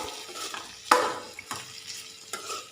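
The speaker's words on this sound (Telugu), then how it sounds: "దీన్నైతే ఆయిల్లో బాగా కలిపేసుకోవాలి" Ridge gourd mixture stirred in hot oil with fried onions, a few distinct spoon scrapes against the pan over a faint, steady sizzle.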